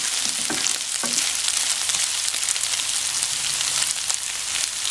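Diced potato, carrot and ground pork stir-fry in a hot pan, giving a steady close sizzle with a few scraping stirs near the start and no talking.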